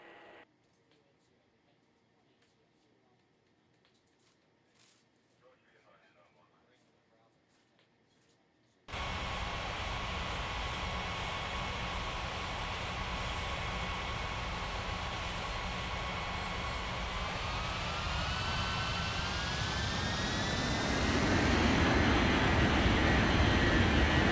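An airliner takes off on runway 14 right in the Unmatched Air Traffic Control game. After a quiet stretch, a sudden steady jet roar cuts in, its engine whine climbing in pitch as the noise swells louder toward the end.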